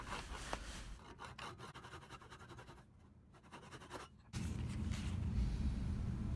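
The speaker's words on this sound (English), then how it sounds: "So I'm just going to take off the rest of that wedge and the little bit of excess that I left on the top of the handle." A wooden wedge on a tack hammer's wooden handle is trimmed away with rough rasping and rubbing strokes, close and fairly quiet, shifting to a denser, steadier scraping toward the end.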